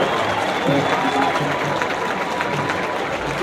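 An outdoor crowd at the thirtieth gathering of festival giants in Calella claps in a sustained, dense round of applause, with crowd noise and some voices mixed in.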